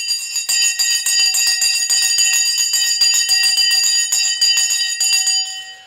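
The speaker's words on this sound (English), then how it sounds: "The bell has now gone and we are off on this Monday" A stock market opening bell rings loud and sustained, a bright metallic trill with fast repeated strikes that holds for several seconds before cutting off, with no other sound.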